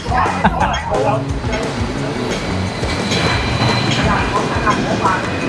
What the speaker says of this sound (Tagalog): Mga double decker na mini train.